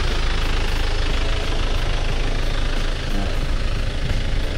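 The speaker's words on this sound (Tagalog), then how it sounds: "At ito nga pala ang tunog ng kanyang makina." A 2015 Isuzu Crosswind engine idling, a loud, steady, close rumble that holds an even pitch throughout with no revving.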